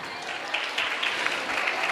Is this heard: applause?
yes